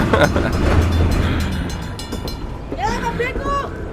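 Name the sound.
amusement park train passing at Six Flags Fiesta Texas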